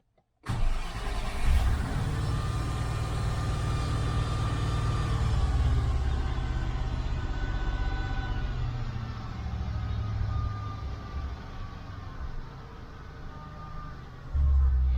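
A 1990 left-hand-drive Range Rover engine cranks and fires, then settles into a steady, fast idle set too high, a continuous close engine drone lasting about fourteen seconds with a slight rise near the end.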